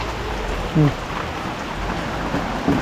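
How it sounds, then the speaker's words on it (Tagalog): Heavy rain pours onto a house under construction, a dense, loud, continuous hiss of drops on the roof and surfaces, with a couple of brief voices faintly heard beneath it. "Lumakas ng ulan oh."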